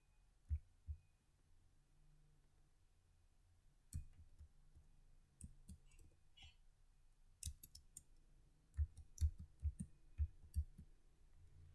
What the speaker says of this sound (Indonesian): Sekarang kita ketik ipconfig.